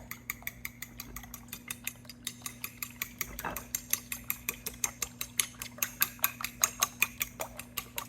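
Eggs are beaten in a bowl for an 1880 deep dish egg custard pie, a quiet, steady rhythm of fork or whisk clicks against the dish over a low background hum.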